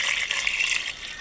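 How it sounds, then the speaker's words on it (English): Water pours steadily into an Instant Pot for lamb pilaf, a continuous close, bright gushing stream that runs without a break for the whole moment. "I'll add about a cup of water"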